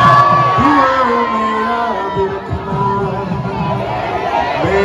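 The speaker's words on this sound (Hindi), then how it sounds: "एक बार हमारे म्यूजिशियंस के लिए जोरदार तालियां हो जाए" A college audience at a live concert in Haldwani cheers loudly for the musicians with whoops, shouts and crowd roar, and a sustained tone from the band rings underneath.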